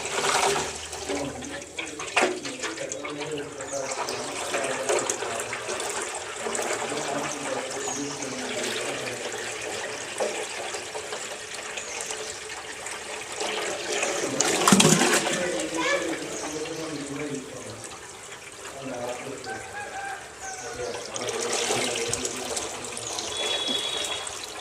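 Water runs and splashes steadily from a tap for a long stretch, with a louder gush midway and voices talking faintly underneath.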